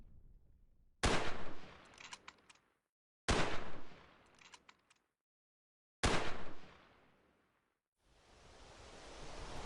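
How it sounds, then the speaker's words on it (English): Video game gunfire comes in three sudden loud bursts of rapid shooting, each cutting off abruptly after a second or so, followed by a rising noisy rush at the end; no talking. "Who's shooting what?"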